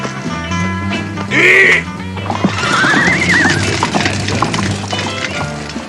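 A horse whinnies loudly, a high wavering neigh, followed by a second longer neigh over hoof clatter and background bustle.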